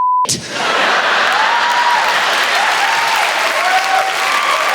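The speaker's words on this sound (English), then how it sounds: "Feel all the mums applauding." Loud, sustained applause from a stand-up comedy club audience swells right after a sharp opening hit and carries on steadily, dense and close, with scattered whoops rising above the clapping.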